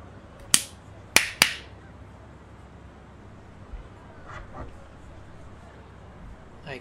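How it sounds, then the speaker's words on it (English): Hand claps used as a sync marker while recording a gameplay session: three sharp, loud claps in quick succession, then a quiet room with faint soft noises. "I clapped so I would see where this is when I'm editing"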